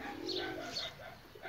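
Free-roaming pigeons give a short, soft cooing call at close range, quiet and alone.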